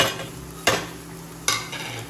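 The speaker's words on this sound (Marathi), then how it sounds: "आता मसाले मस्त मिक्स करते आणि शिजवते थोडा" Spices being stirred into frying garlic in a pan for a Marathi dried-fish curry, with a soft continuous sizzle broken by two sharp scraping stirs, close and without talk.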